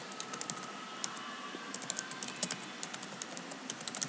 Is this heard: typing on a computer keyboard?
yes